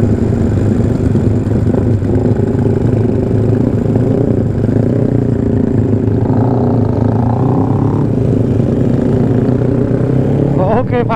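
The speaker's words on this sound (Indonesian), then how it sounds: "Digas langsung narik banget ya lu motornya." Yamaha Mio automatic scooter accelerating on a night ride, a steady buzzing engine drone with the pitch climbing as the throttle opens, heard throughout alongside rushing wind.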